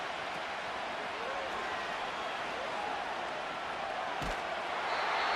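A crowd roars in an American football video game, Madden 25, as a steady broad wash of stadium noise that swells slightly toward the end, with a brief thud partway through.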